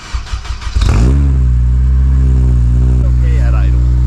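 An SR20-powered Nissan 240SX with a loud exhaust revs up hard near the mic after a few choppy blips, then holds a steady, loud droning rasp.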